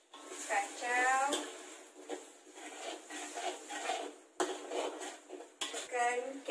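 Metal spoon scraping and clattering against a cooking pan while stirring stink bean (petai) masala with chicken in oil, in irregular close strokes, with voices talking at intervals.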